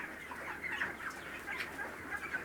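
Chickens on a commercial poultry farm, a dense continuous flock chatter of clucks and calls, moderately loud and steady, with no talking.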